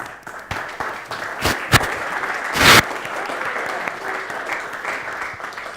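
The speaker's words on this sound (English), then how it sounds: "Quiet round of applause." A modest audience claps quietly at a tech-for-good awards discussion, producing soft, uneven applause with a few louder individual claps standing out near the middle.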